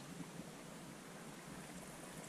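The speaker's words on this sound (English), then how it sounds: "we've just come across this nice little freshwater spring here, running nice and clear and fresh" Clear freshwater spring water running down off Beinn Narnain in the Arrochar Alps, Scotland, a steady close trickling and rushing wash with no break across the whole stretch.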